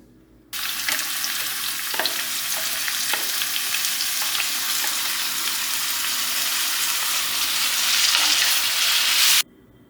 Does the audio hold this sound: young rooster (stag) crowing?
no